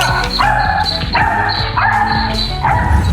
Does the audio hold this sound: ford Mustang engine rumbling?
no